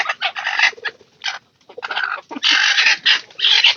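A broody laying hen clucks in bursts on a farm, loud and near, with short pauses between runs of throaty calls and no talk over it.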